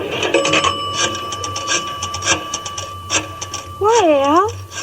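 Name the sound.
telephone being dialed for a call from a pay phone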